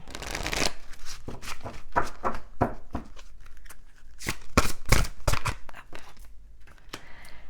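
Oracle cards from a Rumi deck being shuffled by hand, a run of quick papery riffles and flicks in bursts with short pauses, close and fairly loud with no voice over it.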